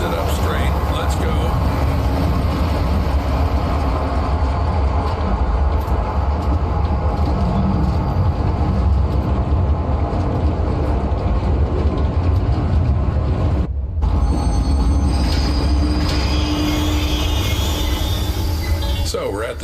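A train rolling on rails inside the horror video game Zoochosis, a steady loud rumble with clattering wheel noise that runs almost without a break and dips briefly near the middle.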